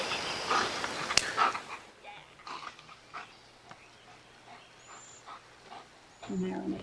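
A dog whimpers and yips softly in short, scattered bursts during an indoor training session, with a trainer's voice intermittently heard around it.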